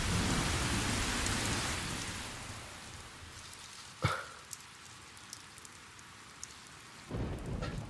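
Heavy rain pours steadily outdoors, then a single sharp, loud thunderclap cracks about halfway through; the downpour softens to a quieter patter before swelling heavy again near the end.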